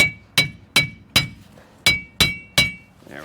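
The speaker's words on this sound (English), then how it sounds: "To remove our bearing, we'll take our hammer and hit on the outer rim" Seven sharp, ringing metallic hammer blows strike the outer rim of a 2015-2020 GMC Yukon front wheel bearing in a fairly even rhythm, each one loud and close, with short decaying rings between.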